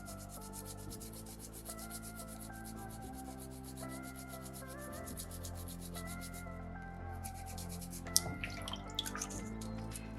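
Folded sandpaper pinched flat works a narrow groove into a soapstone shark's mouth, giving close, repetitive rubbing strokes over steady background music, with a few sharper scrapes near the end.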